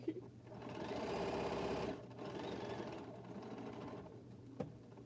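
A sewing machine stitching jelly roll quilt blocks runs in a steady whirring burst, pauses briefly, then runs again at close range, with a small click near the end.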